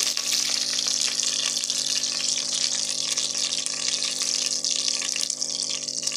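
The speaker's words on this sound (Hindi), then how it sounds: "पानी अब मैं इसमें डाल रही हूँ 4 कप" Four cups of water gush steadily from a tap into a pot of rice seasoned with white cumin, a continuous loud splashing pour lasting several seconds with no talk over it.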